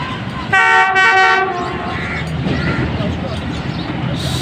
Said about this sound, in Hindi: आज के व्लॉग का दूसरा एक्शन 10 डाउन अल्लामा इकबाल एक्सप्रेस